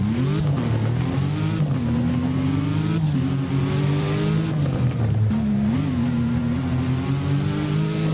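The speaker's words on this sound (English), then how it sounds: "the idle sound on this is actually crazy" W Motors car engine in the video game Driving Empire, revving in repeated surges that rise and fall over a rough idle, loud and continuous with no talking.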